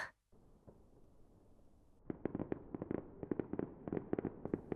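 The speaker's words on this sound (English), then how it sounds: "Are those fireworks?" After a hushed pause, a distant burst of fireworks breaks out in a rapid, irregular string of sharp pops and crackles that keeps going.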